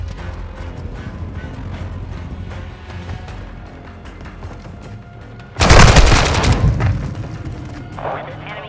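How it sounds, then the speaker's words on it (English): A cruise missile blast in Call of Duty Modern Warfare, a sudden heavy boom that rolls off slowly, preceded by a bed of gunfire and battle noise. "Hostiles launched a cruise missile."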